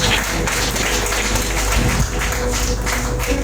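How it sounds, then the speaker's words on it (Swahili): Loud, continuous clapping from a church congregation applauding Jesus, with the steady rhythmic patter carrying on under a constant background. "Mwinulie Yesu makofi mengi mazuri."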